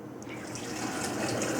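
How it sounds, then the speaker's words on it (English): Water pours steadily over cut apples in a jar for homemade apple vinegar, a close, continuous rushing splash that builds slightly over a second and a half. "And then I'm going to cover this up with water."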